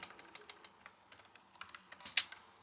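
Fingers typing PHP code on a computer keyboard, a quick run of light, close key clicks with one sharper tap near the end, soft and uneven in rhythm.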